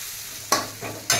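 Tempering spices for a tadka sizzle in a hot pan over a gas flame, with three sharp bursts of frying hiss, each flaring up and trailing off. No voices are heard.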